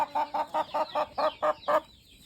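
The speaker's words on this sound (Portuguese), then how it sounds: "Tá todo mundo animado, as galinhas animadas" A chicken clucks on a farm in rainy weather in a quick, even run of about eight loud, close calls, then falls quiet.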